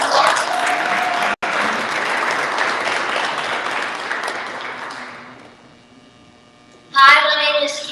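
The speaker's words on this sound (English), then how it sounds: "Give a round of applause." Crowd applause at a campaign launch rally, a loud, dense burst of clapping that tapers off over several seconds, briefly cut out once, before a close voice begins speaking near the end.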